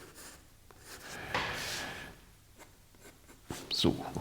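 A pencil scratches and rubs across paper in short strokes as cubes are sketched with depth shading, soft and close, with a voice speaking at intervals.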